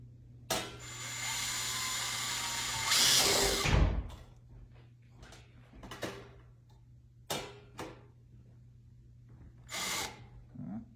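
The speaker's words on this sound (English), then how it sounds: "then you're just gonna drill" A power drill whirs in a loud burst for a few seconds, then stops, followed by scattered clicks, taps and short mechanical bursts.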